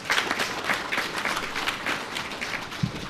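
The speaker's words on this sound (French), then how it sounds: "et ça s'applaudit" An audience at a launch event for a digital information campaign in Benin breaks into applause: dense, brisk clapping from many hands, fairly close and continuous, with no speech on top.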